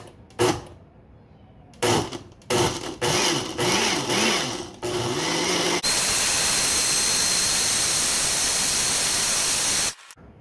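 A kitchen blender pulses ginger, carrot and hot sauce ingredients in several short loud bursts with brief stops between them, then whirs in one long steady run before cutting off.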